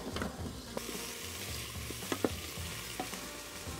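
Chopped onion and celery sauté in the bottom of a pressure cooker for pot roast, a soft, continuous sizzle broken by scattered scraping and clinking from a stirring utensil.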